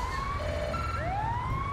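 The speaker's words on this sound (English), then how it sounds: "People, stop for the siren." An emergency vehicle siren wails in the GTA 5 video game, its rising and falling electronic tones sweeping loudly and continuously over a low engine rumble.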